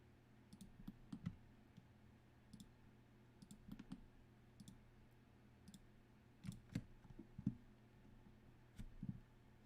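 Single computer mouse clicks while tracing curve points in clothing design software, soft and close, coming in irregular spaced taps over a faint steady hum.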